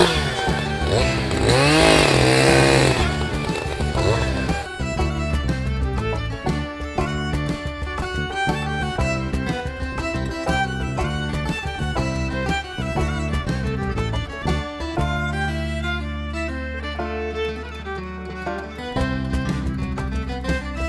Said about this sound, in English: Time to do a little chainsaw work.